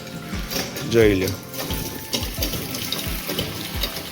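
Water gushing from a hand pump drawing on an underground tank in a village, rhythmic spurts with faint mechanical creaks of the pump, close by, with a short spoken remark over it.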